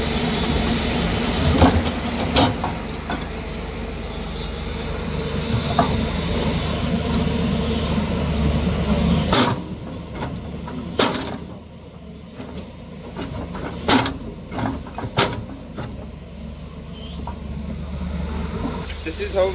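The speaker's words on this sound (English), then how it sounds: "This is our new 210 machine which is working on the site." New 210 excavator working on a construction site for an irrigation water storage tank, shifting rock with a steady loud engine rumble and intermittent clanks and scrapes, the engine easing partway through.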